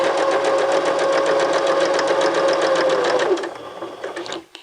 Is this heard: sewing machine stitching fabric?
yes